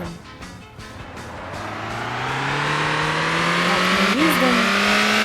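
A car engine in the driving game Motor Town hums and rises steadily in pitch as it accelerates, loud and continuous, with a brief tire-like chirp near the end.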